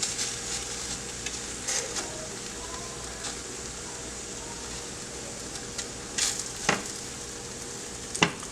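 Flatbread laid into hot oil in a pan, giving a steady soft sizzle and crackle throughout, with occasional louder pops and scrapes.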